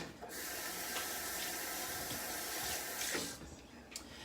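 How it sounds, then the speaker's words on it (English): Water runs steadily from a kitchen tap for a hand wash during chicken pot pie cooking, a close, even gush that cuts off after about three seconds with a few small knocks after. "I'm going to quick wash my hands."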